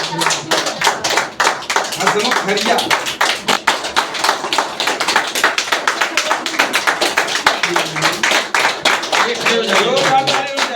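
Loud, dense clapping from an audience at an indoor training session runs throughout, steady and energetic, with a spoken name briefly heard over it.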